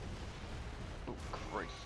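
Incoming mortar fire in the Gears of War: Judgment campaign, a dense low rumbling barrage of booms and blasts that runs the whole time, with a brief voice-like sound near the end.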